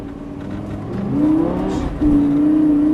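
A Lamborghini Gallardo LP550 accelerates hard on a race track, its engine note rising loud and steady, dipping briefly at a gear change before pulling strongly again.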